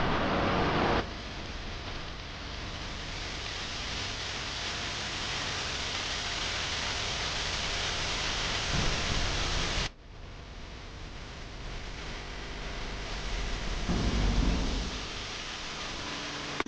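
Waterfall at Irachilpara, Kanthaloor, a steady dense roar of falling water that fills the whole stretch, loud and close with no voices, briefly dipping then returning.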